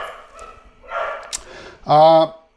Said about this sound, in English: the dog, I don't know if you can hear that, it's going off at something.